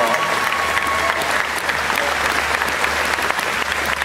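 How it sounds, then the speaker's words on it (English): A live podcast audience at a Disney celebration event breaks into a steady, dense round of applause, many hands clapping together continuously with no voices over it. "Let's give him a round of applause."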